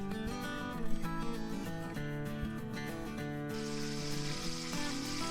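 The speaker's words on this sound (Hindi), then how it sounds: "घी को हम गरम करेंगे।" A spoonful of ghee heating in a pot on the stove for a lauki masala gravy, heard as a faint, steady sizzle under a sustained musical hum, with nothing else standing out.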